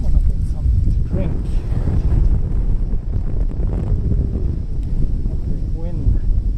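Strong wind buffets a handheld microphone on a street walk through Jiyugaoka in Tokyo, a loud, continuous low rumble with gusty surges that masks most other sound.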